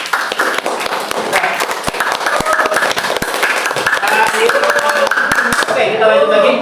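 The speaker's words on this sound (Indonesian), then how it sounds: "tepuk tangan untuk teman-teman yang maju." A classroom of students clapping for classmates who presented, dense uneven clapping with sharp individual hits and a voice talking over it near the end.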